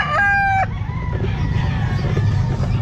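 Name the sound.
rooster crowing at a pet market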